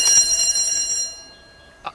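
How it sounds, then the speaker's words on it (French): A school bell rings for break, a bright metallic ringing tone that fades out over about a second, followed by a brief faint knock. "La cloche a sonné, c'est la pause."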